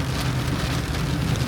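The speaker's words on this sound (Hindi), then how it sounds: "और भाई बारिश देखो कितनी तेज़ बारिश है।" Heavy monsoon rain drums on a car roof and windows on a mountain road near Ghansali, Uttarakhand, a dense, loud, continuous patter heard from inside the vehicle with no speech.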